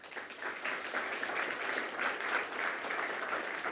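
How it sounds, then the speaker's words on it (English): Audience applause fills the room at the close of a Google Cloud Next '19 conference talk on BigQuery: steady, dense clapping throughout, moderately loud and sustained without pause. "A round of applause."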